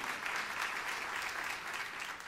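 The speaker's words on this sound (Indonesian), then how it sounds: "Yang percaya tepuk tangan yang meriah untuk kemuliaan Tuhan." Church congregation applauding during a sermon, a steady, moderately distant wash of many hands clapping without a break, with no voices over it.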